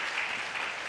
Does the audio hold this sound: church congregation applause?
yes